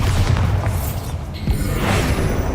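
The Bombarda explosion spell in Hogwarts Legacy lets out a deep booming blast with rumbling low end and a swelling whoosh, loud and sustained over roughly two seconds.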